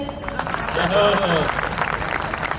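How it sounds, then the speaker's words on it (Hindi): An audience at a kavi sammelan poetry gathering applauds after a ghazal, a crowd of clapping hands mixed with voices speaking over it. "गजल खत्म, तालियां बजाइए।"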